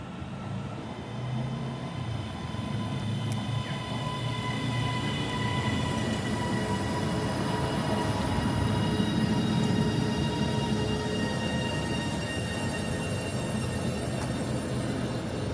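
Northern passenger train on the Crewe to Stockport line, service to Manchester Piccadilly, rumbling steadily at close range with a continuous low roar and faint squealing tones for the whole span, no talk.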